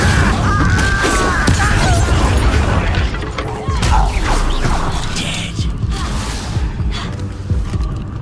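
Incendio fire spell cast in Hogwarts Legacy, a loud, dense burst of fiery magic layered with rumbling booms, creaks and crashing impacts that swell over several seconds and then settle into a rough, continuous roar.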